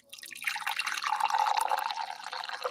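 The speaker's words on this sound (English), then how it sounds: "You kind of hear the tea pouring in the background" Tea pours into a cup in a steady, close trickling stream that starts abruptly and continues without a break.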